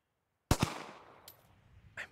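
Two sharp gunshots in quick succession in the survival game Survive the Nights, fired at a chicken, loud and close with a decaying echo tail, followed by a couple of fainter clicks.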